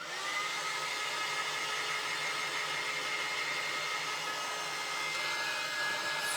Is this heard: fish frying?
no